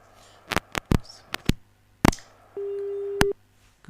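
Telephone busy tone after a call cuts off, a steady loud beep lasting under a second following several sharp clicks and bumps from the handset, with no speech.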